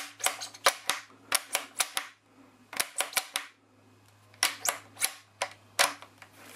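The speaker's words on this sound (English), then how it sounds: "You can really rack this rifle quite fast." Lithgow Crossover LA101 bolt-action rifle racked repeatedly in fast bursts, a crisp run of sharp metallic clacks and clicks, close and loud, in three quick groups separated by short pauses.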